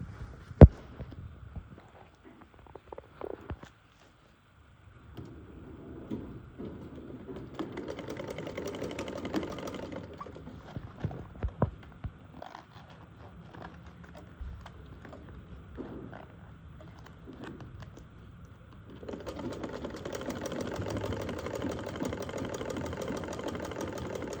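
A sewing machine stitches a trouser waistband in two longer runs of rapid, even mechanical whirring, separated by quiet pauses with small clicks and handling noises.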